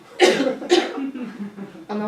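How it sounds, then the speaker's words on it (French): A person coughs twice in quick succession, close and fairly loud, followed by a brief throaty vocal sound. "Je tousse!"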